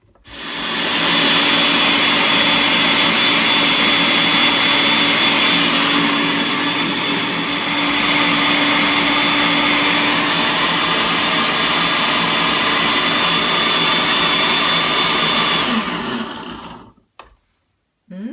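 A loud, close blender runs steadily for about sixteen seconds, whirring through vegan chocolate cherry ice cream with a slight dip in pitch midway before switching off.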